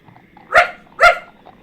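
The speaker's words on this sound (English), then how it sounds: "A dog, Brian Blessed?" Two loud, close dog barks about half a second apart, each short and sharp, with a quiet background between them and no talking.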